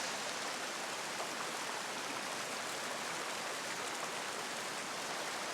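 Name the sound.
waterfall and flowing water on an island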